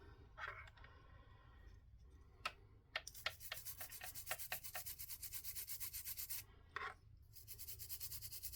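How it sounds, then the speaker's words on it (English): Rubbing alcohol being scrubbed onto a Baby Brezza control panel circuit board, a close, faint repeated rhythmic scratching and rubbing with scattered clicks and soft taps, heard alone without talk. "Let's also take some alcohol and rub it on this side as well."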